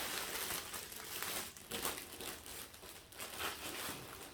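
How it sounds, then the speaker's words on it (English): Adhesive tape being pulled and pressed along the edges of a handmade Christmas tea basket, a steady close crinkling and rustling with brief pauses, no talking. "we're going to just tape the edges back"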